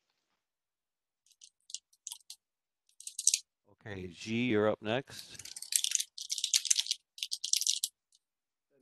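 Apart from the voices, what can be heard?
keyboard typing on an open microphone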